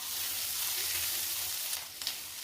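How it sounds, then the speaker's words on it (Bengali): Grated ginger sizzles in butter in a pan for shahi paneer, a loud, even, close hiss with a couple of brief utensil knocks toward the end. "প্যানে আরেকটু বাটার দিয়ে এখানে আমি গ্রেট করা আদাগুলোকে দিয়ে দেব।"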